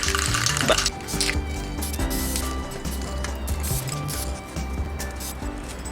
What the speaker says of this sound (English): And now we'll give it a wee spray.